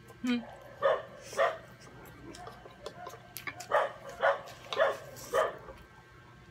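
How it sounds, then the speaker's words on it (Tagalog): Several dogs barking outdoors, sharp yips and barks spaced out in bursts over a few seconds, moderately near, with low voices and background murmur. "Ngayon, mga aso. Naamoy ata tayo eh."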